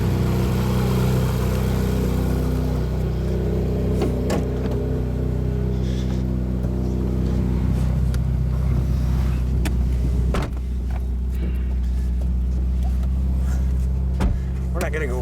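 Yellow 2015 Ferrari 458 Speciale driving slowly around the block, a low steady engine hum heard from inside the cabin with occasional clicks and knocks, while people talk over it.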